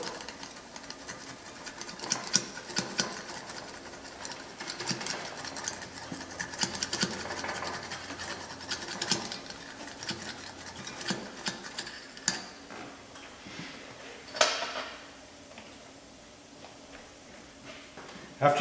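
A tire repair is stitched by hand in short, scratchy, uneven ticks and pulls that come close and fairly faint, repeating for a while before thinning out near the end.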